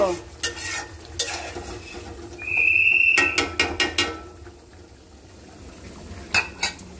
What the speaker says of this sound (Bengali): আমার মশলাটা মাশাআল্লাহ সুন্দর কষানো হতেছে, কষাতে থাক।